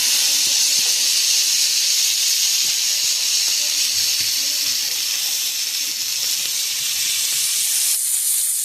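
Sandwich bread roasts in oil on a pan, giving a steady, close, hissing sizzle that runs unbroken and fairly loud throughout, with no voices.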